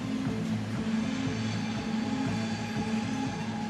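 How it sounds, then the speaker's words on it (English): Trains pass by Ponar Forest, a steady loud rumble of rail cars with a constant low drone and faint clatter throughout, no voices. "You're hearing the trains going by."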